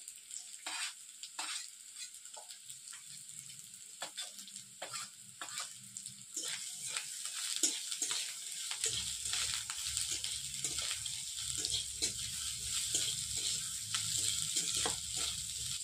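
Beetroot pieces frying in a pan for vegetable chops, a soft continuous sizzle punctuated by repeated spatula strokes and scrapes, growing fuller and louder about halfway through, no talking.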